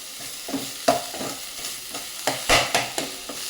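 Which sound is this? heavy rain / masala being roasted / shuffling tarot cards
masala being roasted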